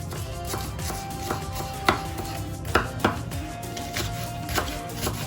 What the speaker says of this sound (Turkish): İki tane sivri biberimi de minik minik doğruyorum.